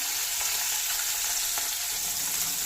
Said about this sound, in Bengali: এবার এতে আমি দিয়ে দেব মাছগুলো মাছগুলো আমি একটু ভালো করে ভেজে নিই